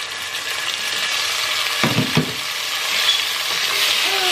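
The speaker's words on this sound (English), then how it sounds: "what I'm gonna do is add some hot water from the kettle" Onion and garlic frying in a pan for a Bengali fish curry: a steady, loud sizzle, briefly broken by a sharper hissing splash as hot water from a kettle is poured in, with no voices.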